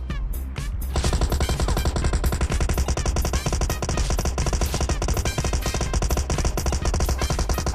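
Sustained automatic gunfire in the mobile battle royale game BGMI, loud and continuous after a brief opening burst, dense rapid shots filling the whole stretch.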